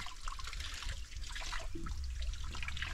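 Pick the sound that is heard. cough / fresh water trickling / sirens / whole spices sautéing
fresh water trickling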